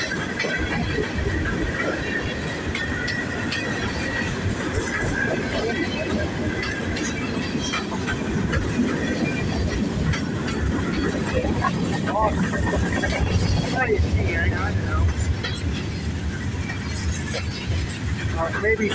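CN freight train rolling past in Michigan, a continuous heavy rumble of wheels and railcars with intermittent squeals and clanks, close and steady, while people talk over it.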